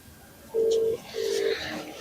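A phone call rings out with two steady electronic ringback tones in a row, separated by a short pause, clear and moderately loud against quiet background noise.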